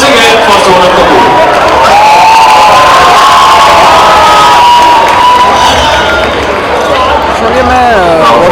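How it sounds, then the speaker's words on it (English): A large, loud crowd at IIT Bombay cheers, whoops and shouts for actress Sonam Kapoor, a continuous roar with high excited voices and some clapping mixed in throughout. "a huge round of applause once again for Sonam Kapoor"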